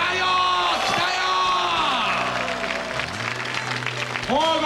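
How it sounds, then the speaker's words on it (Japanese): Studio audience applause and cheering on a 1998 Japanese game TV show fill the room, with voices calling out over the clapping. "拍手でお迎えください。"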